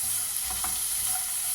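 A paste of spices and ginger is being fried and stirred in a pan for a fish-head curry, giving a soft, steady sizzling hiss with a couple of faint scraping strokes and no voices.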